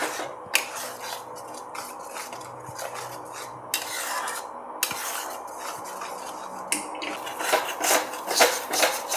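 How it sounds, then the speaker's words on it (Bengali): Spice paste with chilli and coriander powder gets stirred and fried in a pan for a Bengali soya chunks curry, with a metal spoon scraping and clinking against the pan repeatedly over a faint sizzle. "আর ধনে গুঁড়ো দিয়ে মশলাটাকে আমি ভালো করে একটু কষে নেব"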